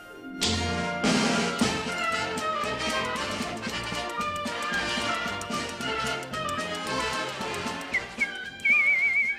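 A person whistles a bright, bouncy melody, the tune carrying clearly above soft instrumental accompaniment, ending on a few higher whistled notes.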